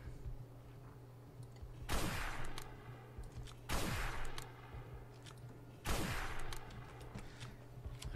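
Gunfire in the Defiance video game as a player shoots zombies: three loud bursts of shots spaced about two seconds apart, each dying away over a steady background hum.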